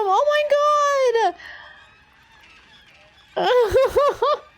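Flocks of birds in the game Monster Hunter Wilds honk loudly in two close bursts, the first a long honking call and the second a quick run of repeated rising honks after a short pause.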